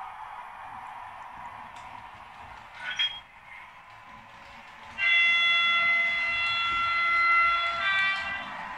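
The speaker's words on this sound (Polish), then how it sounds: "Zaraz nam ten pociąg ładnie podjedzie." A model train on a layout pulls into a station called Kraków. A low rolling rumble and a brief clank are followed by a sustained, bright, horn-like chord that holds for several seconds, close and fairly loud.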